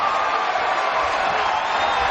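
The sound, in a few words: boxing crowd cheering after Cotto's left hook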